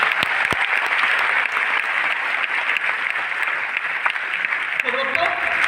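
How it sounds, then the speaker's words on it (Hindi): Loud, dense applause from a seated audience at a sales training session fills the room steadily for several seconds, with a few sharper claps standing out and a brief voice surfacing near the end. "ओनली प्लेटफॉर्म को जोरदार तालियां तो होना चाहिए"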